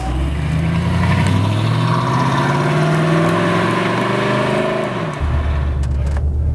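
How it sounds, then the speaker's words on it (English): A Mercedes CLK DTM supercar engine roars steadily from inside the car, revving with rising pitch before shifting down, loud and continuous throughout, with carbon fiber bodywork nearby. "There's so much engine noise that you can hear right away."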